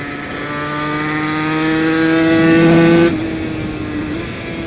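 A Yamaha TZ250 two-stroke racing motorcycle engine drones with a high, buzzing tone that builds in loudness and pitch, then drops abruptly as the throttle closes, leaving a steady lower hum.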